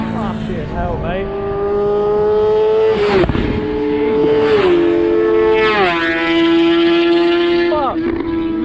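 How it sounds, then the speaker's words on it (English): Several motorbikes race past along the A40 in Wales, their loud engines whining and rising and falling in pitch as each one sweeps by in quick succession, with wind rushing across the microphone. "Load of bikers coming up."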